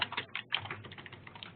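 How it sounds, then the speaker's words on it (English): Quiet clicking of someone typing on a computer keyboard, a rapid irregular patter of keystrokes heard faintly over an open conference line. "somebody is typing"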